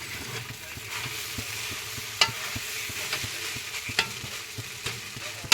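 Poya cooking in a pan over low gas while being stirred, with the spoon scraping and tapping the pan in a steady rhythm over a soft continuous sizzle, plus a couple of sharper clinks.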